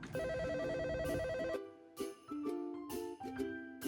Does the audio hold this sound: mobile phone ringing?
yes